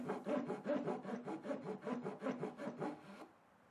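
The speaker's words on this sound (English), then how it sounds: "cutting to the final depth of the fret slot" A saw cuts a fret slot to final depth in a flat wooden guitar fretboard. About a dozen quick, even back-and-forth rasping strokes are heard close up, and then the sawing stops abruptly.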